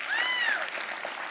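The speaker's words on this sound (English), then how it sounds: "can I get a warm round of applause?" Audience at the EOS Global Hackathon closing ceremony in London breaking into warm applause for Block.one's CEO, a short, dense wash of clapping with a high whistle near the start.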